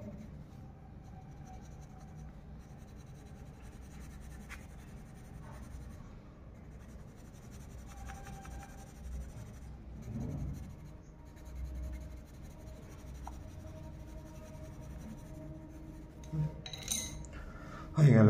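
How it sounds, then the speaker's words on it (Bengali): Pen scratching steadily across paper while shading a black soil region on a map, a faint continuous scribbling under quiet room noise, with a few small clinks and a louder knock near the end. "আমি এখানে ব্ল্যাক রং করে দিচ্ছি কৃষ্ণ মৃত্তিকাতে"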